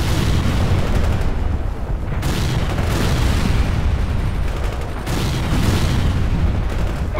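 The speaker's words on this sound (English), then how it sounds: "Fire mission received. Artillery barrage inbound." An artillery barrage pounds the battlefield in World in Conflict, with loud heavy booms rolling in one after another, big blasts landing about every two to three seconds over a continuous rumbling bed.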